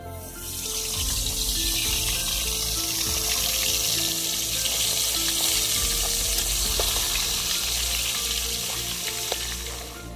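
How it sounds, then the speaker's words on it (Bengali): Catla fish heads coated in salt and turmeric fry in hot oil, making a loud, dense, continuous sizzle and crackle that holds close and steady throughout. "তেল গরম হয়ে গেছে, মাছের মাথাগুলো ভালো করে ভেজে নেব।"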